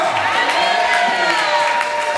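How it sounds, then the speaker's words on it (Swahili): A church congregation claps and cheers for guests at a Sunday service, a loud, dense, continuous wash of applause with voices mixed in and a ringing, echoing room sound. "Makofi mengi kwa ndugu zetu. Ongeze makofi, ongeze makofi."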